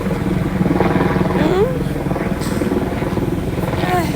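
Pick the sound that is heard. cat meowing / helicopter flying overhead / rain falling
helicopter flying overhead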